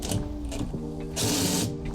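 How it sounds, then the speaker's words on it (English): A power drill whirs in short bursts, then runs in a longer, louder high-pitched spin as a tight bolt is driven on an RV screen door, with mechanical hum underneath. "make your life easy if you got this, if it's possible, and use a drill"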